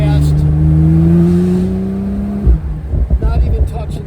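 A 2015 Porsche 911 Turbo S 991.1 with a modified exhaust, driven top down, holds a steady rising engine tone, then the note drops off and gives way to burbly off-throttle rumbles, with someone talking over it.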